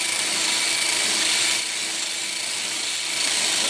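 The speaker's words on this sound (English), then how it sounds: "I've got my drum sanding kit and I'm just enlarging the hole" Drum sanding bit in a power tool enlarging a hole in a metal generator exhaust muffler, a continuous high whining grind, close and loud, with a slight drop in pitch partway through.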